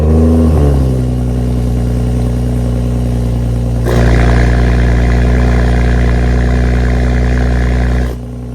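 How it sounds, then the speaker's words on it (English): A 2019 BMW 440i with a valved Valvetronic muffler, catless downpipe and both resonators deleted cranks and fires, settles into a loud, deep idle, then grows louder and rougher when the valves open, before quieting near the end. "Valvetronic muffler with the Catless downpipe and both resonators deleted, so it sounds pretty good"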